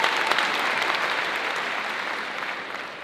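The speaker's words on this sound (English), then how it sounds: "Let's give her a round of applause." Audience applause at a school district opening day gathering, a dense, even burst of clapping from a large crowd sustained throughout and slowly tapering at the end.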